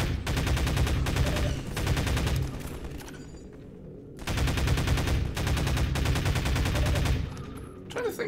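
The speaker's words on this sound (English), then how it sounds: "Shotgun, not the best weapon" Rapid continuous gunfire in a video game, a loud sustained burst, a brief pause, then another long burst, close and dense.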